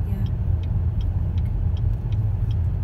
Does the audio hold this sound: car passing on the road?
yes